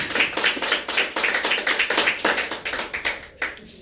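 A church congregation claps in a quick, even rhythm, sharp close handclaps repeating steadily for a few seconds with no voices over them.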